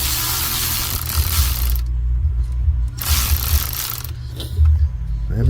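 A ratchet wrench works the last bolt off an engine fan clutch assembly, producing loud, close bursts of rapid clicking and grinding with short gaps between them.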